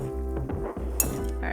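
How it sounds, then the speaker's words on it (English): Utensil stirring lemon in a bowl, giving a few light clinks over a steady low hum. "And we're gonna stir this up."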